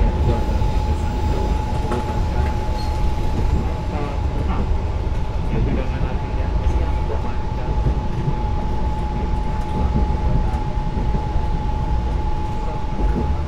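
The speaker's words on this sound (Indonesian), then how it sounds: "kereta api Taksaka Tambahan saat ini melintasi daerah perbukitan Gunung" Taksaka passenger train in Indonesia rolls over a bridge through hilly country, a loud continuous rumble of wheels and rails with a steady high whine, heard from on board.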